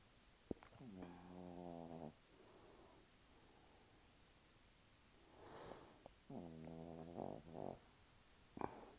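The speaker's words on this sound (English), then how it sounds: "Hear my dog snoring?" A dog snores in two slow, rasping bursts a few seconds apart, faint and close in a quiet room, with soft breathing between them.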